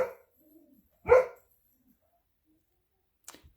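A dog gives a single sharp bark at mid-distance in an otherwise quiet room, with a faint clipped sound before it and a brief light tap near the end.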